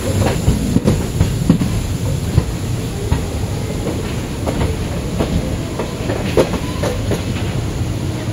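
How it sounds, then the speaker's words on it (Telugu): The Circar Express train rolls steadily along the rails at Rajahmundry station with a loud continuous rumble and faint rhythmic clacking, heard from close by. "ప్లాట్ఫామ్ 1కి ట్రైన్ వెళ్తుంది రాజమండ్రి."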